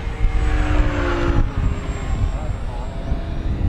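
An FMS radio-controlled model airplane flies at an RC competition, its electric motor a continuous buzzing whine that shifts in pitch as it passes, over steady outdoor wind noise.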